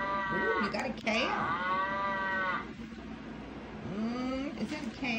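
A toy calf gives two drawn-out electronic moos, separated by a short pause, close and moderately loud.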